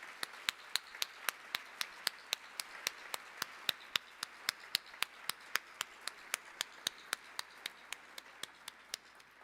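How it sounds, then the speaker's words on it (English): Sparse, evenly spaced claps ring out one at a time at an award dinner, a steady faint patter of single hand claps rather than a full burst of audience applause. "Let's give them a round of applause."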